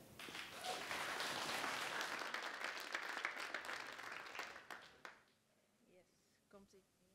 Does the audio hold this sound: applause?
yes